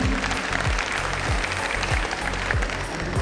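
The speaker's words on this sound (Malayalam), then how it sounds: "നിങ്ങൾ സമ്മതിക്കുമെങ്കിലും ഒന്ന് നന്നായിട്ടൊന്ന് കൈയടിച്ച് സമ്മതിക്കുമോ?" Audience applause at a school annual day event, a dense, steady wash of clapping with a repeating low rhythmic thump underneath throughout.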